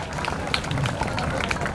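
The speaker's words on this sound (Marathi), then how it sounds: "टाळ्या वाजत राहिल्या पाहिजेत।" Audience clapping at a ceremony honouring a guest, a continuous patter of many hands held at moderate loudness through the whole stretch, with no pauses.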